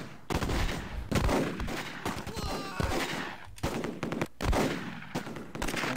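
Gunfire in the Close Combat video game, repeated loud shots and bursts of automatic fire crackling continuously across a battlefield at varying distances, with no talk.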